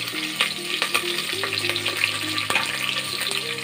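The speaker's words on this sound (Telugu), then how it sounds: "కొంచెం కరివేపాకు వేసుకున్నామండి కొంచెం ఇలా వేయించుకున్నామండి" A tempering of chillies, cumin, onion and curry leaves crackles in hot oil, with a busy close sizzle broken by sharp pops and clinks of a spoon stirring against the pan, alone.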